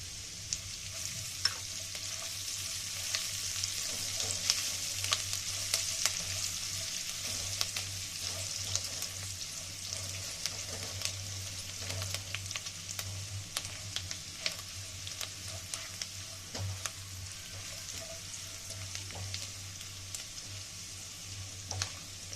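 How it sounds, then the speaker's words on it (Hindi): Garlic frying steadily in a pan with dried and green chillies, a constant hiss and crackle of sizzling oil with occasional small pops and stirring scrapes, close and continuous. "लहसुन अच्छे से फ्राई हो जाए"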